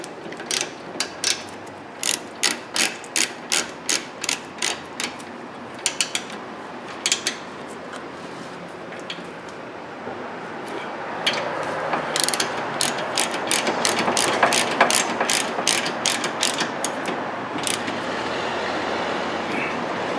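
A hand ratchet clicks in quick bursts while brake caliper bolts are tightened on a 2014 Honda Pilot's rear brakes, the crisp pawl ticks near and distinct, then speeding into denser, louder runs of clicking with short pauses between.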